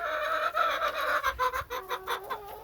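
Hens clucking close by in a backyard flock, a run of short rhythmic clucks and throaty calls with no talking.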